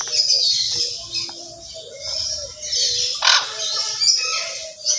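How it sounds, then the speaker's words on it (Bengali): Harsh squawks and bird calls from a parrot in a garden in Manikganj, repeated at close to middle distance with other birds chirping around them and no talking. "ওই দেখেন তোতা পাখি না প্যারট পাখি"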